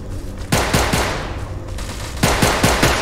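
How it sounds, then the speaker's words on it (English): Automatic gunfire in the video game STALCRAFT rattles in fast bursts, close and loud, with sharp repeated cracks in two main volleys over a steady background, with no speech. "What are you shooting?"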